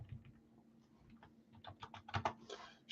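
Computer keyboard keys tapped in quick, irregular clusters, growing denser and louder toward the end, close by over a faint steady hum with no talk.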